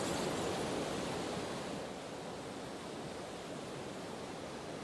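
Rhine Falls in Switzerland, Europe's largest waterfall, pours onto rocks below in a dense, constant roar of crashing water heard close up, loud and steady with no voices.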